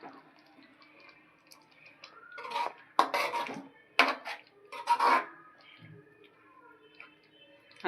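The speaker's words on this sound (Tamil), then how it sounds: "முட்டைகள்லாம் சேர்த்துட்டு இப்போ நல்லா கலந்து விட்டுடலாம்" Boiled eggs being stirred into masala gravy in a pan for egg gravy, with several loud scraping and clinking bursts of the spoon against the pan between quieter stretches.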